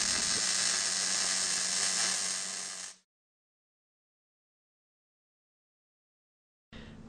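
A MIG welder lays a bead on a T-joint while the gun weaves side to side, making a steady, close crackling buzz for about three seconds. The buzz cuts to silence, then a brief burst starts again at the very end.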